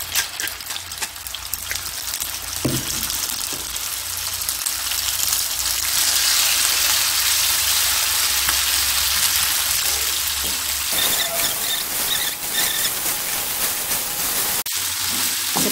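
Ground spice paste for lemongrass fish sambal hisses and sizzles steadily in hot oil, a loud continuous fry with brief surges and a short pause near the end.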